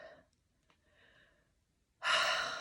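A slow, steady breath exhaled during a calming self-help exercise, first soft and faint, then swelling into a loud, close, airy rush of exhaled air near the end.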